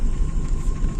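A 1997 Zen's engine, faulty with a boom coming from the engine instead of the silencer, gives a steady low rumble throughout a very short stretch, close and fairly loud.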